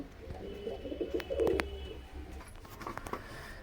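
Soft, low pigeon coos repeat a few times at close range, with faint rustling and a few other small bird sounds around them.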